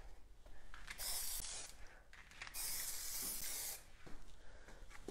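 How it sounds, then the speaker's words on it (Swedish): Spray paint can hissing out in long bursts during a painting session, steady bright spray sounds with short pauses between passes, close and fairly loud. "Det var ju coolt när det bara blev en sån här spraystråle"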